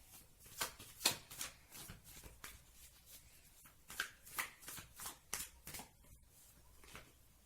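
Tarot cards being shuffled and handled for a love reading, a run of crisp riffling and slapping bursts in steady rhythm, close and fairly quiet, with no one speaking.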